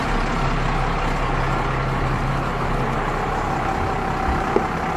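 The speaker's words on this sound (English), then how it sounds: "It's a 50-ton truck." A 50-ton mining truck at a gold mining site, its heavy diesel engine giving a steady, loud low rumble with a constant broadband roar and no talking.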